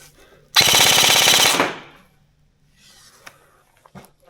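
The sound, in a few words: Krytac airsoft rifle firing full auto with .32 BBs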